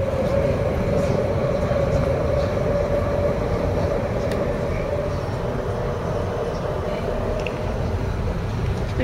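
Steady rumble of a passenger train running toward Paris Saint-Lazare, heard from inside the carriage as a continuous loud drone with a faint hum and occasional small clanks, no talking.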